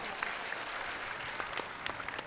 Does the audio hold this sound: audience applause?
yes